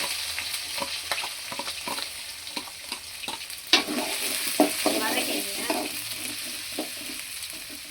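Garlic and fenugreek seeds frying in oil for a lentil-ball curry, with a steady crackling sizzle and scattered scrapes and knocks of a spoon stirring in the pan, close and moderately loud, with a faint voice in the background.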